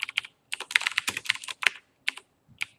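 Bursts of typing on a computer keyboard, quick clusters of crisp key clicks separated by short pauses, close and fairly loud with no talking.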